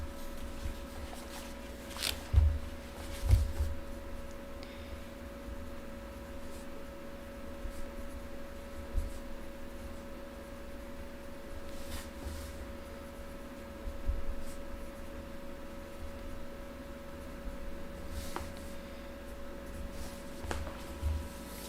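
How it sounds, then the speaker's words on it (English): Pen or pencil scratching across paper while handwriting notes, a soft, steady scribble with a few short taps, heard close up under a low constant hum and no talking. "Maybe I should write that down."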